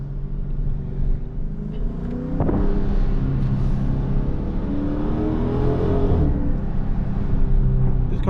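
A Dodge Charger Scat Pack with the 392 engine, driven in traffic and shifting gears: a close, loud engine rumble with rising and falling revs and an audible change at each shift.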